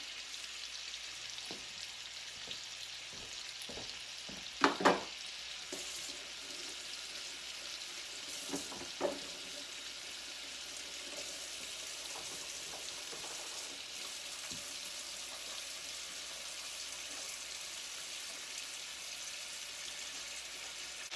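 Chicken pieces frying in a pan, a steady quiet hiss and sizzle running throughout, broken early on by a few brief taps and clinks of a utensil.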